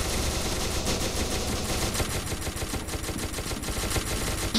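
Dense, continuous gunfire in an SCP video game, with rapid overlapping shots forming a loud, unbroken barrage across the whole stretch and no talk over it.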